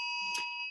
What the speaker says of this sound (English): some kind of alarm going off.